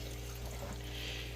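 A hand-pumped aquarium siphon sets water flowing, giving a steady rushing, gurgling stream with a low hum beneath it, continuous and close throughout.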